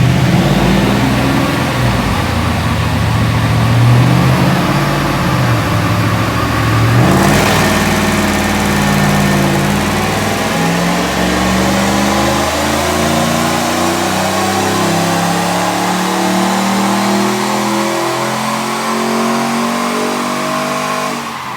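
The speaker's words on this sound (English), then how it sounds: "I'll give it a rev so you can have a listen." A car engine fitted with a new exhaust revs hard, rising and falling in pitch, then settles through a long pull with a steady, throaty drone, loud and close with no talking.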